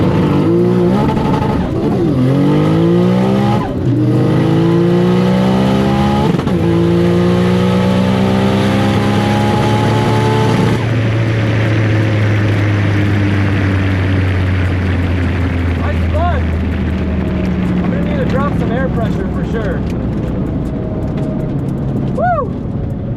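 A Nissan Skyline sedan on a drag pass at a GTR festival, launched with long clutch slip and fast shifts: loud, close engine revving climbs sharply through several quick gear changes, then settles into a long, steady high-speed drone.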